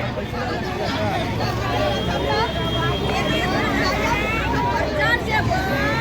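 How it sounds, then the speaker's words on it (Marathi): Busy morning crowd at a roadside fish market, a steady hubbub of many voices mixed with traffic rumble and the drone of passing vehicles, close and continuous, with a nearby person talking over it. "इथे गर्दी बघू शकता तुम्ही सकाळ सकाळची किती गर्दी असते"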